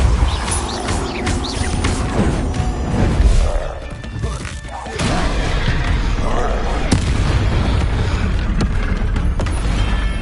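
A Confringo blasting spell explodes in Hogwarts Legacy amid continuous loud combat noise, with heavy booms, crashes and sharp impacts layered densely and a brief lull before the din resumes.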